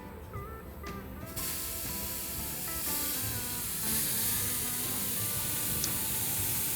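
Flank steak hitting a hot grill over medium-high heat: a steady, dense sizzle and hiss swells once the meat lands and holds loud and close throughout, with faint crackles on top.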